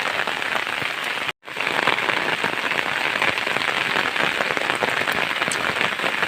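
Loud, heavy rain drums on a surface close by, constant and hissing, with a brief cut near the start.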